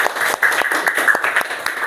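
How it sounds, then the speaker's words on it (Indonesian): A classroom of students claps for themselves, a dense, uneven patter of hands with a sustained high vocal tone running underneath. "Kita tepuk tangan dulu."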